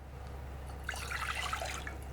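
About a cup of water splashes and trickles into a saucepan. The pour is quiet, close and steady, lasting about a second over a constant low electrical hum, with no voices.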